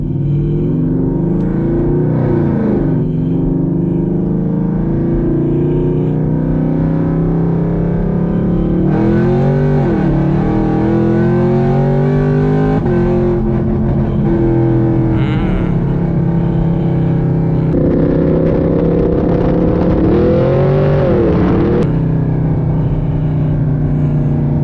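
Chevrolet Camaro SS with an FBO setup accelerating hard on the road: a loud, continuous engine roar with repeated rising revs through the gears, heard from inside the car with no talk.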